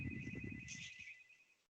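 A phone ringtone trills faintly in the background, a short electronic ring that fades out after a moment, with a low voice talking at the start.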